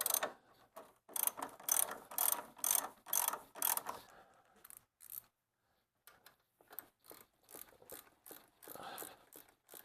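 A ratchet wrench tightens 14mm bolts on the lower control arm of a 2002-08 Toyota Camry, its rapid clicking coming in repeated close bursts with brief pauses between strokes.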